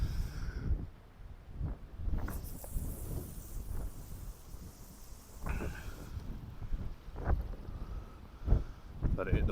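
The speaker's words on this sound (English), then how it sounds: "It's crazy with that wind, you know." Wind buffets the microphone on a boat at sea while cod fishing, a steady low rumble with gusts and occasional knocks, close and moderately loud, with a voice speaking briefly in places.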